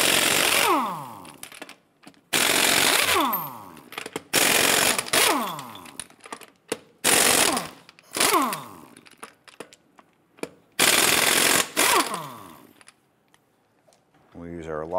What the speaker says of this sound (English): Go ahead and loosen and remove the lug nuts.